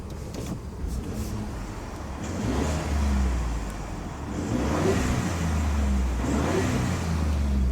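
A 2019 Ford F150 Platinum EcoBoost engine revved while heard from inside the quiet cab: muffled low rumbles swell twice and ease off, with faint interior noises over a subdued hum.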